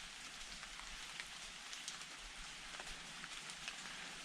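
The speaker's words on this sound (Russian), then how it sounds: "Вот и дождик разошелся." Steady rain falls through a forest, dense hiss of drops pattering on leaves and surfaces with scattered louder splats, continuous and close with no voices.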